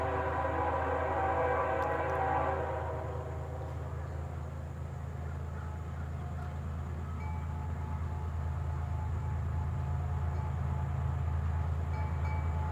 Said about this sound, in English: We're going to experience a train together.